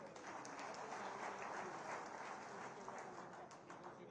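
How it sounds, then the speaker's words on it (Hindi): Crowd applause at an outdoor BJP election rally in Pundri, Haryana, a steady dense wash of clapping running unbroken for the whole stretch, fairly distant and even in level. "जोरदार तालियों से।"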